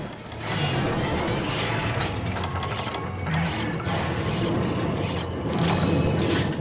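Weapon being sharpened with a whetstone in Monster Hunter 3 Ultimate, a run of repeated scraping, grinding mechanical strokes at a steady pace, fairly close and continuous with no talking.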